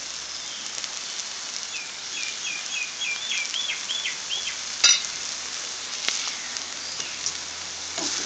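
Cabbage sautés in a hot pan with a soft, continuous hissing sizzle, a couple of sharp clacks partway through, and faint bird chirps in the background.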